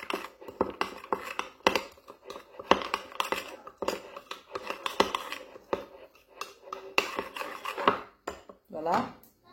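A spoon clinks and scrapes against a small bowl while a turmeric face mask mixture is stirred, in quick irregular taps and scrapes, close and fairly loud with no voices.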